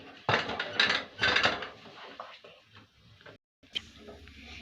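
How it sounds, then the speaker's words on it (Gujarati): Metal clanks and clinks of a pressure cooker lid being handled and closed on a gas stove, a few sharp knocks close by, then a brief quiet. "હવે આપણે આ કુકરને ગેસ ઉપર રાખી દઈશું અને તેનું ઢાંક અને તેનું ઢાંકણું બંધ કરી દઈશું"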